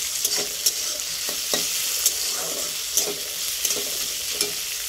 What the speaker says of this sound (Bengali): আলু ভাজাটা রেডি হয়েছে